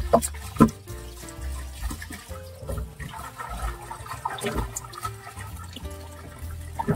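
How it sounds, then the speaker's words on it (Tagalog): Water runs steadily from a tap with splashing and clattering as pork is rinsed of blood, with occasional sharper knocks. "Masalang natin hanggang medyo luminaw-linaw yung tubig."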